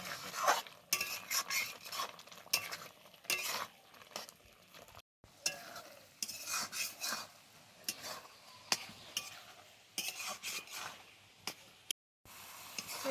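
Grated raw papaya mixture for naru is stirred in a pan, with repeated scraping strokes and clinks of the spoon against the metal over a light sizzle, close and uneven, with brief silent gaps.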